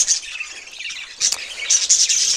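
Pet budgies chirping in an outdoor aviary, several bright, close tweets in quick clusters with short quiet gaps between them.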